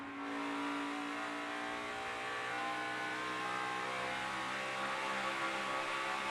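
A NASCAR stock car at speed during final practice for the 2009 Kobalt Tools 500 at Atlanta, its engine drone loud and steady throughout with a rising, sustained roar and no talk over it.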